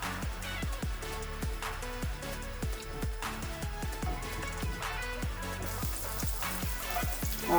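Minced garlic sizzles steadily in hot oil in a frying pan for chicken rolls, a constant crackling hiss close by with no one talking, while unrelated tonal notes pulse over it.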